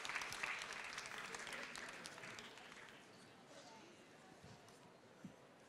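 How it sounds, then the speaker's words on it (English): An audience at a photography artist talk in Paris applauds, a soft, fairly distant patter of clapping that starts fuller and tapers gradually, fading lower toward the end. "Please give him a round of applause"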